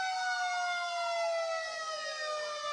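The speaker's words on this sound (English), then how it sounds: "I said Tattnall Fire and Rescue, in case you can't hear me over the sirens" Tattnall Fire and Rescue fire truck sirens wail steadily and loudly, the tone sliding slowly downward without a break and nothing else audible.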